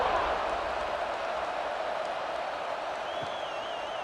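In College Football 26 game audio of Nebraska vs USC, a stadium crowd roars in a steady, broad wash of cheering as the kickoff approaches. The sound is fairly loud and continuous throughout, with no single standout shouts.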